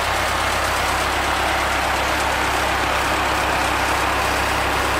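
A 1948 Ford 8N tractor engine running steadily after warming up, a continuous low rumbling drone with a loud, even mechanical chatter and no speech throughout.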